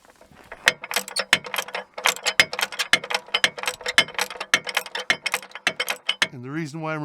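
A ratchet works loose the bracket bolts near the starter of a 2006 Montana minivan, giving bursts of sharp, rapid clicking close by, with pauses between runs and a voice at the end.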